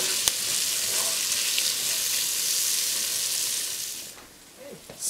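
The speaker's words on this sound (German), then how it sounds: "anschließend geben wir die Zwiebeln mit rein und braten die mit an" Chopped onions sizzle and fry in a cast-iron Dutch oven for a noodle pot with meatballs, a steady close hiss that dips briefly near the end before flaring up again.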